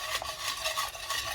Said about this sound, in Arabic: نخلطو حتى تولي عندنا هاد الخليط يولي عندنا مزيان وتماسك بعضياتو